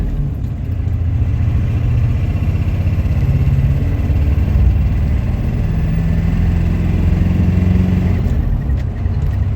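An LB7 Duramax pickup truck with an NV4500 manual transmission swap drives along, its diesel engine holding a loud, steady, low rumble from inside the cab for the whole stretch, with no voices.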